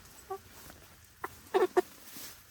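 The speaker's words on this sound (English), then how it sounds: "He's a rooster." A roughly ten-week-old rooster clucks a few times, short and fairly quiet, with a small cluster of clucks near the middle against a calm background.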